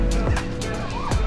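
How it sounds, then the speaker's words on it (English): A real bird calls at an outdoor water park, giving a few short, close squawking notes over a background of ambient noise. "I thought that was a fake bird. That's a real bird right there."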